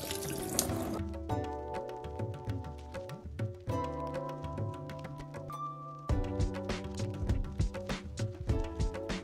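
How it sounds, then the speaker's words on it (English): Cool water runs from a kitchen tap over salt mackerel, a steady splashing stream that shifts in tone as the fish is moved beneath it, close and fairly loud with no talking. "run this under some cool water for a few seconds in order to remove any salt that was trapped in between"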